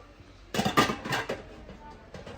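Aluminium pots clank and knock together in a short burst of handling in a shopping centre, followed by softer scattered clinks.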